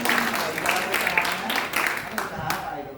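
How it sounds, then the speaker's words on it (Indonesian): Church congregation applauding during a sermon, scattered clapping bursts mixed with voices and talk from the crowd, moderately loud and uneven. "Sekali lagi tepuk tangan buat Tuhan"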